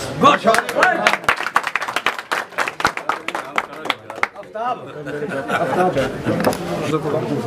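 An audience at a political gathering at a house in Biyal, Khuiratta, applauds a speaker's arrival with loud, close, steady clapping, which fades into murmuring chatter and talk.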